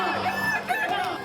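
Several stocky balengek roosters from Solok crow over one another at a crowing contest, with long, rising and wavering crows overlapping in a loud, crowded chorus.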